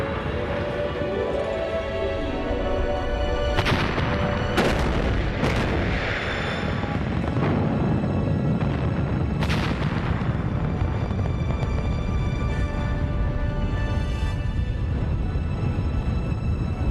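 Rocket engine explosions from post-war American and Soviet rocketry boom out in a series of loud, sharp blasts over a continuous roaring rumble, several bursts spaced a few seconds apart.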